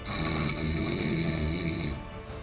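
Snoring from a sleeping egg character in a tabletop role-playing session, a steady droning rasp lasting about two seconds and then cutting off abruptly near the end.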